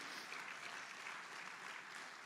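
A church congregation applauds during a worship service, a continuous dense wash of clapping heard from a distance, faint and even throughout.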